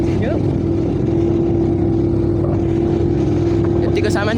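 A motorbike ridden at speed on a road: a steady, loud engine drone with rushing wind that holds unbroken throughout, with a voice faintly under the noise.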